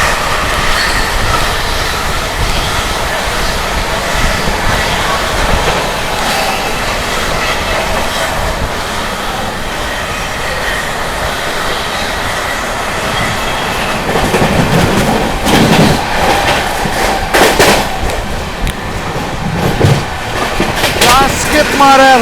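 An Amrit Bharat Express passenger train runs at speed past another train near Prayagraj, with loud, steady rumbling and clickety-clack of wheels on rails, squealing metal and bursts of rushing noise as the trains pass, under some talk.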